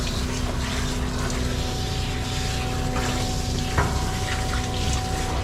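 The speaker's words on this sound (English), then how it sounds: "I am just going to drain this. And as that is draining, I'm gonna do a really quick rinse." Water drains from a dog grooming tub into a gray tank with a steady, continuous rushing flow over a low mechanical hum. The sound runs alone, with no talking.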